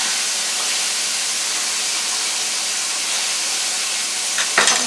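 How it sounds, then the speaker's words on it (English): Chicken pieces frying in hot oil for crispy fried chicken, a steady dense sizzle and hiss running throughout, with a brief clatter near the end as the pieces are turned. "I turn my chicken constantly, like maybe 3 or 4 times during the whole fry"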